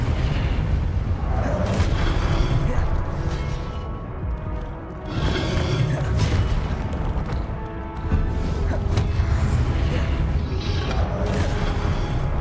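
Confringo blasting spell explosions in the Hogwarts Legacy video game, loud continuous booming blasts and rumbling that fill the whole stretch, with brief dips between bursts.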